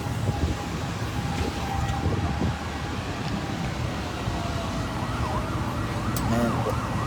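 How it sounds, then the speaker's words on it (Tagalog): Fire truck sirens wail over a warehouse fire in Las Piñas City, several wavering siren tones overlapping at a distance over a steady rumble of traffic and crowd noise. "Dami ng fire truck."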